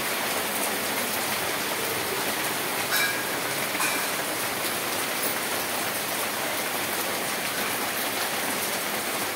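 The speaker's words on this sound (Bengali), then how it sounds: "দেখো কি জোরে নেমেছে বৃষ্টিটা, কি জোরে নেমেছে।" Heavy rain pouring down outdoors, a dense, even hiss that stays loud and unbroken from start to finish with no talk over it.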